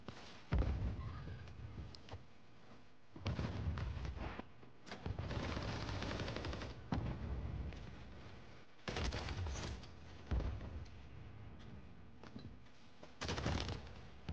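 Pistol fire in a shooter video game, arriving as separate short bursts of sharp shots with brief quiet gaps between them, fairly faint overall and with no talking over it.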